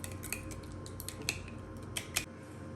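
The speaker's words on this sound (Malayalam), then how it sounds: "ഇനി ഇതിനെ നല്ലവണ്ണം ഒന്ന് നമ്മൾ മിക്സ് ചെയ്തെടുക്കാം." A spoon clinks against a bowl while the French toast egg mixture is stirred, with light scattered metallic taps over a low steady background hum.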